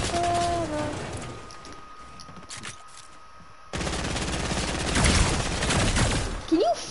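Game gunfire, a dense rattle of rapid shots that fades into quieter sparse pops, then returns as steady heavy firing with a loud burst near the end; brief whistling tones sound early on.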